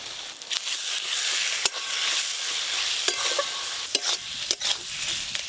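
Spice paste with chopped tomato, turmeric and salt frying in a pan for a crab curry, a bright continuous sizzle broken by sharp spatula scrapes and taps, close and fairly loud.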